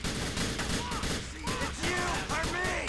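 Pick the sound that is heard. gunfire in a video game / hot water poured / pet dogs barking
gunfire in a video game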